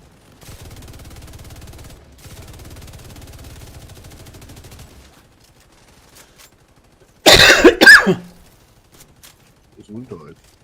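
A person coughs in a loud, rough burst of two or three hacks, close to the mic, after a low steady hum fades out; a short voice follows.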